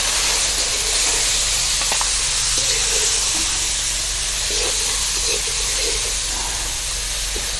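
Fish frying in a pan gives off a loud, steady hiss-and-sizzle that holds unbroken for several seconds, with small pops and clicks scattered through it and no talking.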